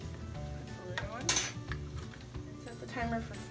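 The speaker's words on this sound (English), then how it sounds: "Put the lid on." A glass-and-metal coffee press lid being fitted into place, a few light clinks and scrapes close by over a busy kitchen background while a person talks.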